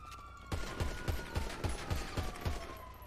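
Gunfire in GTA roleplay: a rapid string of about nine sharp shots in a steady rhythm, loud and close, with a faint tonal hum underneath and no talking.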